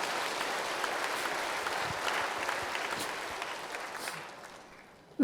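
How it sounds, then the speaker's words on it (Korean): A church congregation at a Friday night worship service applauds for a pastor, with sustained clapping that fades away before a sharp sound cuts in at the very end. "목사님 박수 한번 해주세요."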